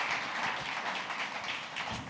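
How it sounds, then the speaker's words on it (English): An audience at a Central Oregon PubTalk gathering breaks into a round of applause for a speaker named Randi: dense, steady clapping from many hands that holds at an even loudness for the whole stretch. "how about a round of applause for Randi?"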